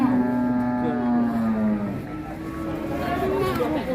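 Cattle at a livestock market moo loudly beside a truck, reluctant to be loaded, with a long sustained low bellow followed by further calls, while people talk over the scene.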